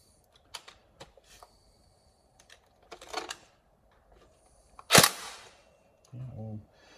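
A Tokyo Marui SCAR-H NGRS airsoft electric gun fires a few short, sharp bursts, with a scattering of lighter clicks and one louder crack near the end, followed by brief low mechanical hum.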